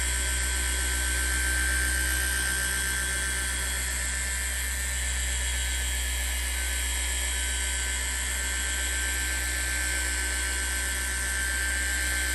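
Car paint polisher with a green Lake Country foam pad and Koch-Chemie M3.02 polish working a Shelby GT500, a steady close high whir with a constant low hum, unbroken throughout with no voices.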